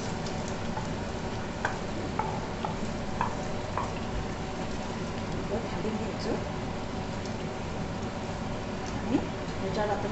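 Paneer stirred into masala frying in a pan: steady low sizzle throughout with occasional faint ticks and scrapes of a spoon, quiet and close, no voice standing out.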